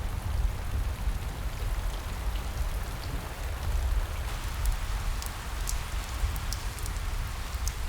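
Steady rain falls in a wild habitat, a continuous dense hiss with scattered sharper drops pattering on surfaces, fairly loud and constant throughout with no voices.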